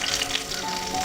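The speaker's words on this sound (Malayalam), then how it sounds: "ഇതിലേക്ക് നമ്മൾ തക്കാളിയും സവോളയും വെളുത്തുള്ളിയും ഒന്ന് ഫ്രൈ ചെയ്ത്, മീനൊക്കെ പൊരിക്കൽ എന്ന് പറഞ്ഞതുപോലെ നമ്മളൊന്ന് ഫ്രൈ ചെയ്തെടുക്കണം" Tomatoes frying in hot oil with garlic and onion for a chutney, a steady close sizzle and crackle heard alone for about a second.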